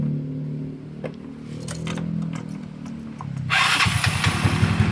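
A motorcycle with stock valves and a set air cleaner fired up in a workshop: light mechanical clicks and cranking give way to an engine catching and running at a steady, close, loud idle.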